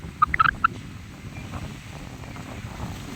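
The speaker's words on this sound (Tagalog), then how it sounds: "Lakas ng hangin." Steady wind rushes across an open microphone on the shore at low tide, a low rumbling roar throughout, with a few brief clicks near the start.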